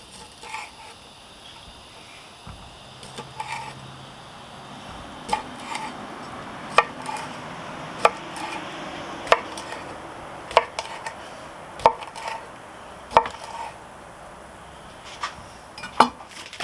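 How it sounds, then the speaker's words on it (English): Knife slicing sausage into rounds on a cutting board, a series of sharp, regularly spaced taps against the board over a low background hum, growing steadier as the cuts continue. "Now we're going to go ahead and start cutting up our sausage rounds."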